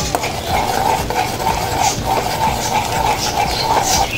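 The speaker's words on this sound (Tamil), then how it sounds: "ரெண்டையும் உடைச்சி ஊற்றி நம்ம இப்படி லைட்டாக பொடி மாசு மாதிரி ஆற வரைக்கும் இப்படியே கிண்டி விட்டுக்குவோம்." Beaten eggs stirred in a pan for an okra and egg masala, a steady close scraping of spoon on metal with a soft background sizzle, continuous and even throughout.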